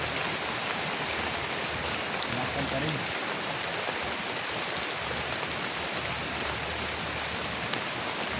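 Steady rain falls in a broad, even hiss that runs unbroken from start to finish, with a voice briefly speaking over it.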